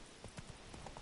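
Hooves of Roach, the Witcher 3 horse, strike in a quick galloping rhythm, several soft, evenly spaced beats heard alone at low volume.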